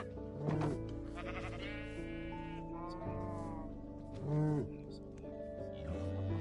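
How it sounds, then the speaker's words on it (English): Sheep bleat several times close by, drawn-out wavering calls overlapping one another, with a louder cry near the end over soft background noise. "Sheep."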